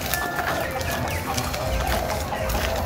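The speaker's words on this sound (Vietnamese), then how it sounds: "Ui gà trống." A rooster clucks among chickens on a farm, with repeated short calls over a dense, steady background of poultry noise and no clear talking.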